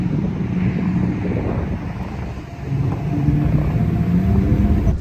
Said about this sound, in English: I'm pulling out my Bugatti Veyron.